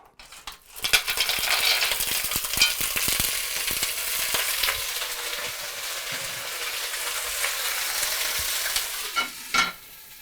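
Manila clams hit hot oil in a pan and burst into a loud, close, sustained sizzle, with shells rattling and clinking as they settle.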